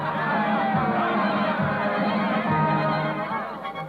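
A circus crowd cheers and chatters as a radio-drama sound effect, a dense, steady babble of many voices with a few rising shouts, fairly close and continuous.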